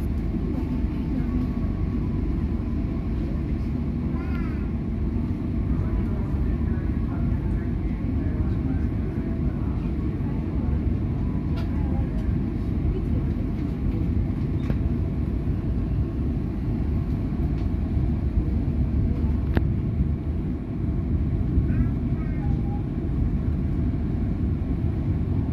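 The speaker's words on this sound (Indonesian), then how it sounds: "kereta api Gumarang jurusan Pasar Senen, Pasar Turi ini diberangkatkan kembali." The Gumarang passenger train on the Pasar Senen to Pasar Turi route pulls away and runs, heard from inside as a steady low rumble with rhythmic rattling and faint squeals throughout.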